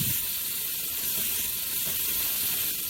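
Spare ribs sizzle steadily in a hot pan with black beans, a dense continuous hiss and crackle that stays loud and even throughout with no talk.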